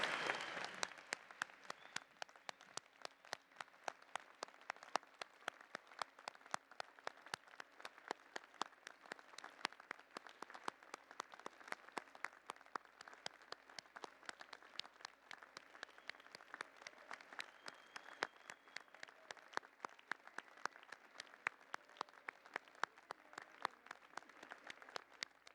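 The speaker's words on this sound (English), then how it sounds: "give a huge round of applause to all those people who supported you throughout" Graduates at a university convocation ceremony applaud for a long stretch, a steady wash of clapping in a large hall that holds at an even, moderate level throughout.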